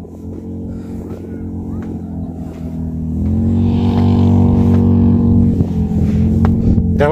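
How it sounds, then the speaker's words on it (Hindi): A motorbike passes on a red dirt road in a sandy rural area, its engine drone rising and holding loud and close, with wind buffeting the microphone. "ये देखो बाइक,"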